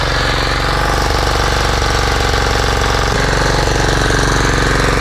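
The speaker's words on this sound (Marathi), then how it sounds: "ट्रॅक्टर येत आता बघूया मग दाखवते." A tractor engine arrives at a rice paddy during transplanting season, running loud and steady with a continuous rapid knocking diesel chug that holds throughout, with no speech.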